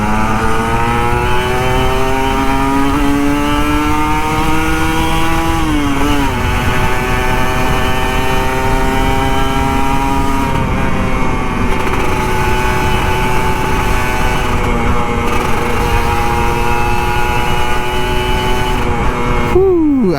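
A Kawasaki Ninja RR 150 motorcycle engine drones loudly and continuously, its pitch rising and falling as the rider throttles up and eases off, heard up close in the morning.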